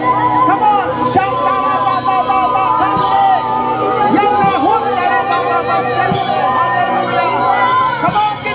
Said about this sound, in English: Everybody shout. A victory shout for the Lord.